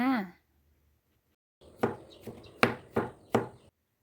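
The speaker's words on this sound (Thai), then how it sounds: "เราก็จะหั่นเป็นชิ้นแล้วแต่ชอบค่ะ" A brief bit of voice, then a pause, then four sharp knife chops through cucumber on a cutting board, close and evenly spaced.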